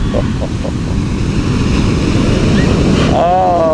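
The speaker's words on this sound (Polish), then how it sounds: "co siódma fala podobno jest większa" Ocean waves breaking on an Australian beach roar loudly and close, a continuous wash of surf with wind buffeting the microphone, with faint voices in the background.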